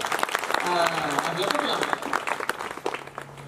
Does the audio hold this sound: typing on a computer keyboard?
no